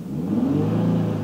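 Manual-transmission car engine restarted and revved after stalling, a rising, close mid-pitched whir of acceleration building over a second, with no talking.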